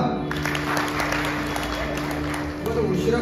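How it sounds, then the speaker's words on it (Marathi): Steady, dense applause from an audience at a devotional Bhagavat discourse, lasting without a break. It holds an even level from start to finish, with a murmur of voices mixed into the clapping. "टाळ्या वाजवा."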